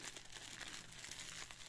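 Crinkling of a vacuum-sealed plastic packet packed with a dust-blowing compressor, a dense continuous crackle of handled plastic, close and fairly faint.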